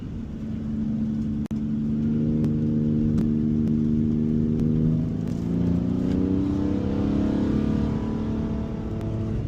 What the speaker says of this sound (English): That exhaust they've put on here sounds absolutely great.